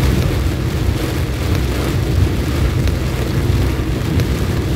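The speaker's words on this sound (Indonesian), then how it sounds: "hujan masih turun dengan sangat deras" Heavy rain pours steadily in Malaka, Indonesia, a dense, loud, unbroken wash of noise with a low rumble underneath, heard alone without voices.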